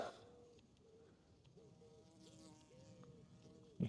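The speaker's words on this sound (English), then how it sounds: "You can hear the bees going about" Quiet outdoor scene at Bothwell Castle with a soft buzz of bees wavering in the background, steady and low, with a faint bird note now and then.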